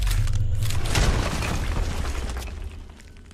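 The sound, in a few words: wall blown up by explosion in Deus Ex: Human Revolution video game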